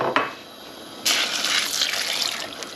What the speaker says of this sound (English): So I'm just going to pop the pasta straight in